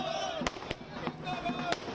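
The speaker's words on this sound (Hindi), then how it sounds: "दिन के उजाले में पटाखे फोड़े जा रहे हैं और जश्न मनाया जा रहा है।" Firecrackers burst in daylight at a BJP office celebration, several sharp pops scattered through a steady crowd hubbub, with a reporter speaking over the noise.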